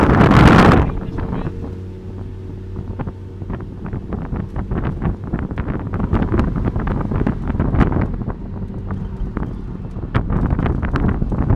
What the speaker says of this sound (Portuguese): Vocês não têm noção do que é ter um motor aqui atrás e ouvir esta brincadeira.